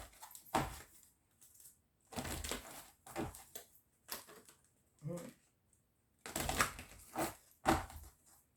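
Bursts of papery riffling and soft slaps repeat in clusters with quiet gaps between, close and fairly faint.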